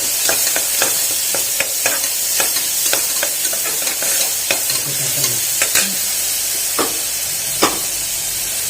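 Cut big onions sautéed in a pan, a continuous loud sizzle broken by frequent scraping and tapping stir strokes in an irregular rhythm, with no voices.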